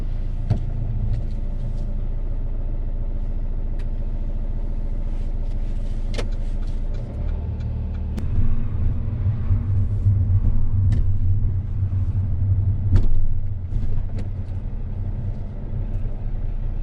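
A car driving on a UK road during a learner's final lesson before the driving test, with a steady low engine and tyre rumble heard from inside the cabin, a few faint clicks and bumps, and no talking.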